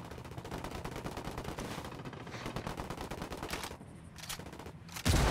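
Sustained automatic gunfire in the Ghost Recon Wildlands video game, with rapid overlapping shots in a dense fusillade, a brief lull, then a loud close burst at the end.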